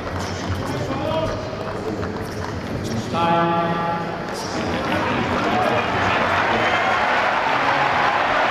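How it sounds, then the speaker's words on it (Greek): An indoor crowd at the Olympic indoor arena applauds tennis player Aristotelis Thanos during a Davis Cup match, the clapping building into a steady wash under a commentator's voice. "Στο κλειστό των Ολυμπιακών εγκαταστάσεων το χειροκρότημα για τον Αριστοτέλη Θάνο"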